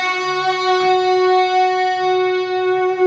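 An electric guitar without a Sustainiac pickup rings out one sustained note with clear harmonics, holding steadily and loud for about three seconds with a slight fade at the end and no talking.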